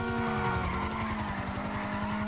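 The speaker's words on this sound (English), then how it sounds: "That car was going fast." Car speeding past in the video game GTA V, a steady loud engine drone with a tonal whine and rhythmic pulsing, tires squealing as it goes by, no talk over it.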